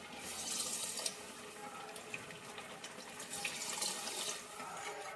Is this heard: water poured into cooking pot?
yes